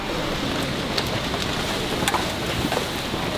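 Steady rain on Marble Mountain in Da Nang, Vietnam hisses all around, close and constant, with scattered heavier drops and a little wind noise.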